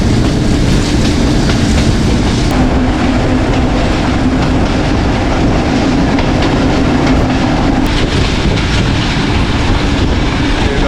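A Pakistani passenger train, the 267UP Rawalpindi Passenger, rolls along the rails from Rawalpindi toward Havelian in rain, giving a loud, continuous rumble with rhythmic clatter of the wheels throughout and no talking.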